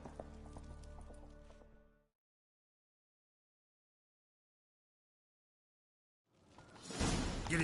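Horse hooves galloping in The Witcher 3 video game, a short burst of thudding clip-clop at the start, then silence, before louder rushing movement and hoofbeats return at the end.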